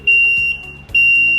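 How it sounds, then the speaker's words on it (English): Two loud, steady electronic beeps from the beeper of a 24V 1000W wheelbarrow transaxle kit, each about half a second long with a short gap between them, close and alone. "The other one is the beeper."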